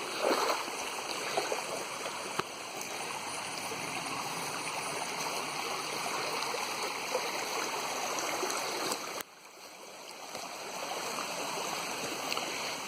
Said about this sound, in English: You can see water flowing freely.